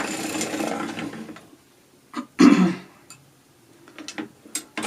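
A sock knitting machine cranked back by hand gives a few short mechanical clatters and ticks, with one louder burst in the middle and quieter taps around it, close by and with no talk.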